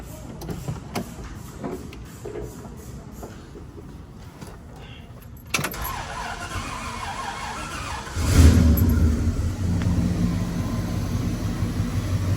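A 1964 Oldsmobile Dynamic 88 V8 with a new carburetor cranks with rapid ticking, then catches and settles into a loud, steady, rumbling idle up close.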